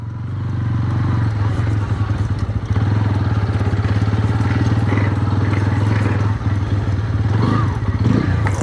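A Bajaj Pulsar N160 motorcycle ridden over a rough off-road patch, its engine droning loud and close with constant rattling clatter and bumps throughout.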